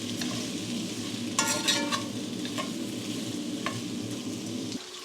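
Orzo pasta sautéing in a pan for a one-pan Turkish beef or lamb dish, with a steady close sizzle and stirring scrapes throughout, a few sharper clatters near the start, and the frying briefly quieter at the very end.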